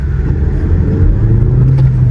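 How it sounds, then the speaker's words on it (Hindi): The 1.3-litre turbo petrol engine of a 2026 Renault Duster with a manual gearbox pulls hard as the turbo comes in, a loud, steady, rising drone heard from inside the cabin on a rainy drive. "ये देखो एकदम से जो टर्बो है वो किक मारता है"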